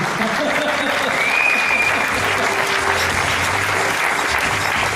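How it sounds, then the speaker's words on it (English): Audience applause for Senora Emilia Garcia, a steady, dense clapping that fills the room loudly and evenly from start to finish, with a faint murmur of voices underneath. "Give her a round of applause, ladies and gentlemen"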